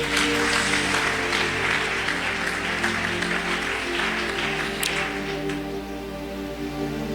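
A church congregation applauds steadily to acclaim the Lord, a dense crackle of clapping under a sustained hum of instruments or music, loud and continuous throughout with no clear pauses.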